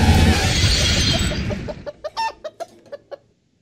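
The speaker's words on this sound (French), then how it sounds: "c'était la petite démonstration de Shock Driver Extreme, donc avec un poulet géant" A giant chicken in the video game Shock Driver Extreme clucks loudly after a crashing, shattering burst, followed by a rapid series of about seven sharp, separate clucks that end the clip, with no talk.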